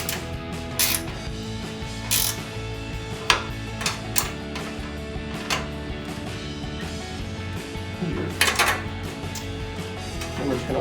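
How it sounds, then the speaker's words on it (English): Ratcheting wrench tightening bolts on a front bumper being fitted to a 2007-2013 Silverado 1500: close, rapid clicking in short bursts over a steady mechanical hum, with a brief faint voice. "you can get a ratcheting wrench for this part."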